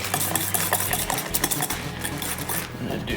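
A chocolate mixture is stirred into batter in a bowl, giving a steady wet scraping and swishing with faint clinks of utensil against the bowl, continuous throughout.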